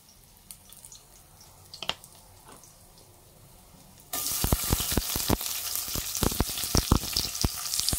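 Garlic hits hot oil in a pan while cooking adobong takway, a sudden loud sizzle and crackle that starts midway after quiet kitchen ambience and keeps popping steadily up close.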